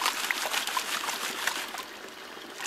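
Water sloshing and trickling as material is gently washed out of a gold pan, a steady close splashy wash with small surges, running continuously and alone.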